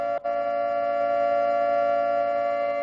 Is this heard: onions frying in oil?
no